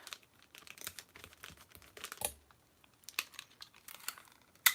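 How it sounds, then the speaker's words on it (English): Adhesive tape is pulled and torn off a roll, quiet and close, with several short crackling rips and strips scattered across the moment, no voices. "Give this just a little bit more tape"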